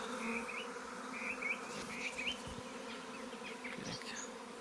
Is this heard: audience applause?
no